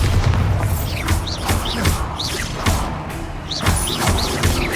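Explosive spells Confringo and Bombarda cast repeatedly in the Hogwarts Legacy video game, a series of booming blasts and thuds, some with rising whooshes, in a dense, busy combat mix.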